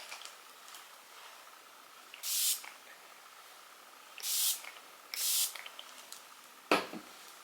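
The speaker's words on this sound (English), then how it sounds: "then we're gonna do another round of setting spray." Makeup setting spray mists out in three short, soft hissing bursts a second or two apart, close to the microphone in a quiet room.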